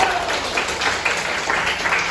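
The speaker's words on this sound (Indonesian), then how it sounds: "Oke, tepuk tangan dulu" A class of schoolchildren claps their hands together in a steady, dense round of applause in a classroom, close and moderately loud throughout.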